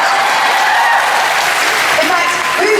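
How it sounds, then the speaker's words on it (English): Steady applause from a fan convention audience fills the clip, a dense wash of clapping at even loudness, with some voices mixed in. "that deserves a round of applause"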